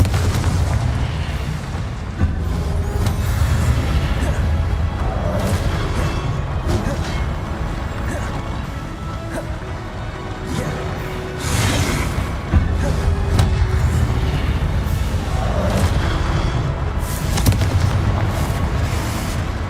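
Confringo fire-spell blasts in the game Hogwarts Legacy, repeated booming explosions over dense, continuous combat noise, loud and close, with a few spaced heavier bursts standing out.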